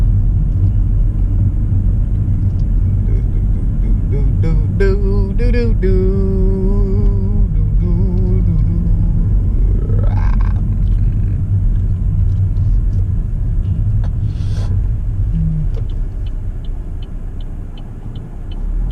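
Heavy trucks rumble past on a nearby road, a deep continuous drone filling the whole stretch with a brief air-brake hiss midway and short sharper engine sounds, loud and close with no talk over it.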